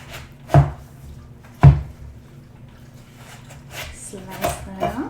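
A knife slices through a seedless watermelon, giving two sharp, close cutting thuds about a second apart, with a voice speaking faintly later.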